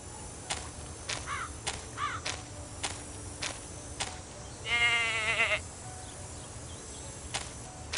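Goat bleating in short wavering cries, two brief calls early and a longer louder bleat midway, over a quiet outdoor background with scattered clicks and taps.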